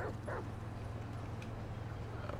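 A dog barks in the GTA V video game, two quick yips near the start over a steady low game hum, followed by faint background sounds.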